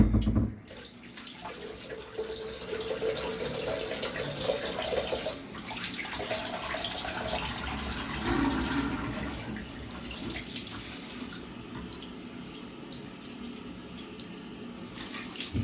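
A bathroom tap running steadily into a sink while someone rinses off after a shave, a continuous close splashing rush with small shifts as hands move through the stream.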